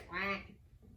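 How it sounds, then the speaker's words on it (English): A single short, nasal duck quack sounds up close and then fades, part of a children's farm song sung during a circle-time session. "And on that farm he had a duck"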